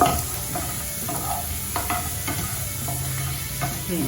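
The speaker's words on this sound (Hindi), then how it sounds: "थोड़ा सा इसको मैं सॉटे कर लेती हूँ ताकि इसका जो एक कच्चा जो स्मेल होता है वो निकल जाए।" Garlic sautéing in a pan gives a steady close sizzle with faint intermittent scrapes of stirring, and no voices.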